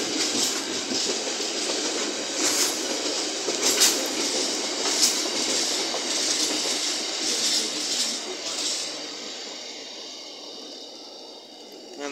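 A train runs through Leicester station on the Midland Main Line, wheels clattering rhythmically over rail joints with occasional sharp squeals, loud and close for most of the pass before easing off toward the end.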